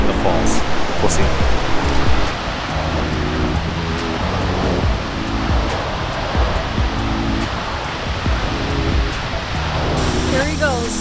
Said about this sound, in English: I'm gonna attempt to go somewhere behind the waterfall.